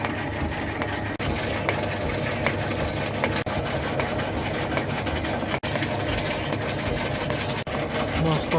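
A metal shaper takes its first cut on a round bit, a loud, steady mechanical clatter and hum broken by a brief catch about every two seconds as each stroke returns.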